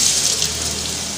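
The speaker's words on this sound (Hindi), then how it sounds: "इमली का पानी है वो हमने इसमें ऐड कर देना है" Tamarind water pours steadily into a cooking pot of spiced chana rice with red chili, turmeric and garam masala, a continuous close splashing trickle heard alone.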